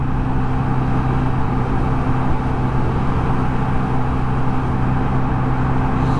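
A Pulsar motorcycle engine holds a steady drone at roughly 60% throttle while cruising around 45 mph, a loud, even hum with no change in pitch.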